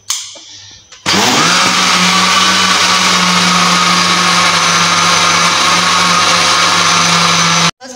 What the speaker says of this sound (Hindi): अब जो है हमने इसको लगाना है ग्राइंडर इस तरह से।